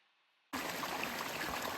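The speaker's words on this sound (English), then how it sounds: "This stream is above a series of small waterfalls" A stream in a botanical garden rushes above a series of small waterfalls, a steady close broadband wash of flowing water that starts abruptly after a brief near-silence and continues without talk.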